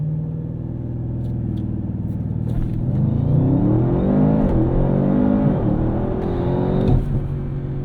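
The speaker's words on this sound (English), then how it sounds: "And that fires this RS7 to 60 in just about 3 seconds" A 2024 Audi RS7 Performance with a twin-turbo V8 leaps off the line under launch control, a deep building engine roar climbing through rising revs and gear shifts, loud and close from inside the car.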